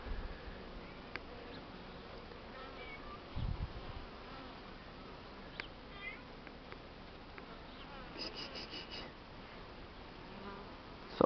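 Honeybees buzz softly around a hive on a warm spring day, most carrying pollen loads, a faint, steady drone with occasional closer passes and small bumps, fairly quiet overall.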